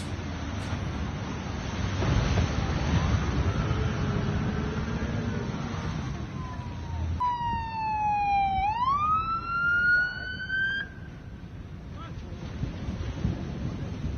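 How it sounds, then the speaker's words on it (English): A lifeguard truck's siren at the beach in La Jolla, California, rises in a loud sweeping wail over wind noise and steady background rumble, then cuts off. "turns his siren up"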